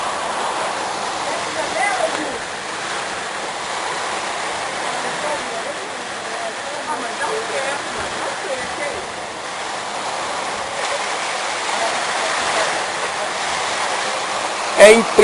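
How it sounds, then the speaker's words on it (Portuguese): Heavy rain with hail pounding down during a strong storm in Rolândia, Brazil, a steady dense hiss and patter throughout, with faint voices occasionally under it. "É impressionante a força da chuva."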